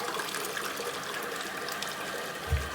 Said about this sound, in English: And I like the swirling action of these Toto toilets.